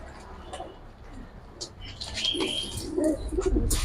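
Giribaz pigeons, a silver and a red-tailed lalpatti pair, give soft low coos and brief wing flutters while being handled at close range. Faint chirps come and go over a quiet background.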